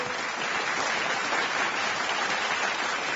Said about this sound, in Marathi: आणि सगळ्या वादकांसाठी एकदा जोरदार टाळ्या